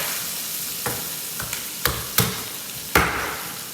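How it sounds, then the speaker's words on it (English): Pheasant carcass pieces frying in a hot pan while making pheasant gravy, giving a low steady sizzle broken by a few sharp clatters and stirring knocks, close and moderately loud, with no talking. "Stick the carcass in, let it sizzle."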